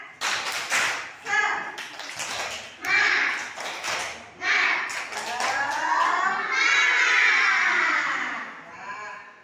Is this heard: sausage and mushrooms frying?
no